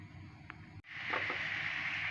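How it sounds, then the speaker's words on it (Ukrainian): Honey caramelizing in a frying pan, a faint quiet stretch with a light scrape, then a soft steady sizzle rising and holding. "Це наш мед е, карамелізується."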